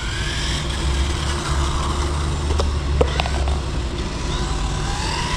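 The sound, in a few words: small glow-fuel RC car engine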